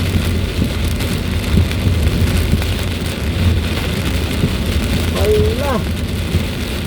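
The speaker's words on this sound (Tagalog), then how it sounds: "May ganitong ulan, grabe oh." Heavy rain pounds steadily on a car driving through Typhoon Crising near Santo Tomas, a dense continuous roar with a brief exclamation from a voice and a short whistling tone near the end.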